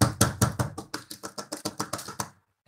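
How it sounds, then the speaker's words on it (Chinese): A dozen sharp hand claps in a steady, quick rhythm, close and fairly loud, each a crisp broadband slap that fades briefly before the next, ending after about two and a half seconds. "拍手拍手"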